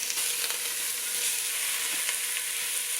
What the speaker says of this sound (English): basically what I'm doing here is I'm just browning my meat